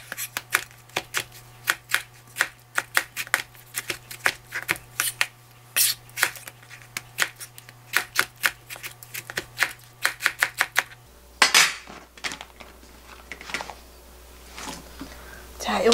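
A knife chops vegetables rapidly on a cutting board for a vegetable soup, many quick crisp taps in uneven bursts, close up, with a pause and softer cuts later.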